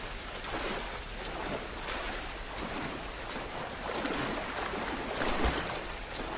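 Rushing water from a waterfall in the Tomb Raider video game. A steady, broadband roar holds at an even level throughout, with faint surging textures and no voices.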